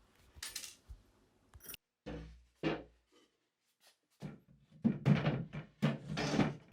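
The drawer of an old dresser that would not fully close is worked open and shut, giving several close, sharp wooden knocks and scrapes with short quiet gaps between them in a quiet room.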